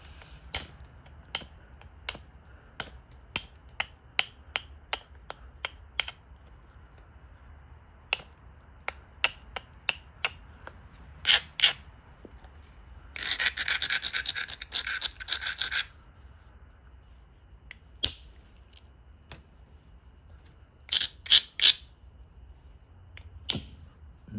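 Flintknapping bevel flakes off Pedernales chert from Texas: a series of sharp, crisp clicks at irregular intervals, with a short burst of scraping or grinding partway through, close and alone.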